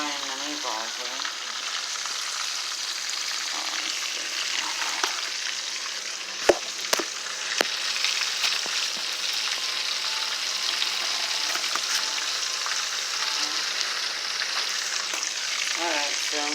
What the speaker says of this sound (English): see me frying the meatballs here.